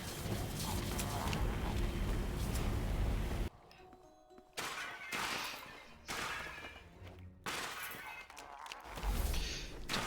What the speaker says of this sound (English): I am smashing everything.